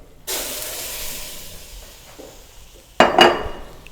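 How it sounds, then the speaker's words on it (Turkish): Grated tomato drops into a hot soup pot of oil and flour over low heat, giving a sudden sizzling hiss and a couple of metallic clinks, then settling into a softer steady sizzle. "Şimdi içerisine rendelenmiş domatesimi bırakıyorum."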